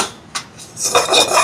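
Grated coconut roasts in a pan for a rava laddu and is stirred with a utensil, giving close scraping and rasping strokes against the metal with a light clink, and no talking.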